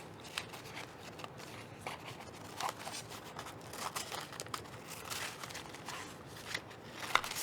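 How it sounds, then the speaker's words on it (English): Scissors snip through plastic-coated decorative card stock in a run of short, crisp cuts with uneven pauses, close and fairly quiet, with no voices. "A little bit harder to cut it off because of the plastic."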